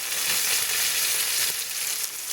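Ostrich steaks sear with spices in a hot pan, giving a continuous close, bright sizzling hiss with no voices.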